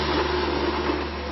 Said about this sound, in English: Now let's see the blender do its magic.